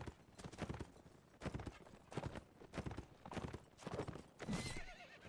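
A horse gallops in the video game Mount and Blade Warband. The hoofbeats form a quick, rhythmic clip-clop in repeated bursts at low volume, with a brief whinny-like sound near the end.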